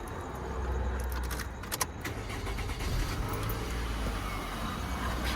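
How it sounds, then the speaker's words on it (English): A 2002-2006 Toyota Camry engine idles with a smooth, low steady rumble after a rattle fix, close by, with a brief metallic jangle of keys near the start. "I will once again show you the final result of how the engine sounds"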